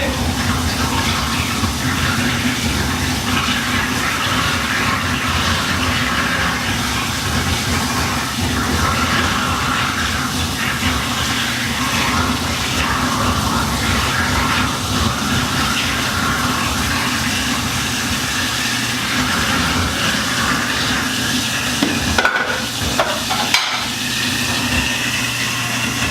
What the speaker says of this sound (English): I'm just going to let the dish disposal do its thing.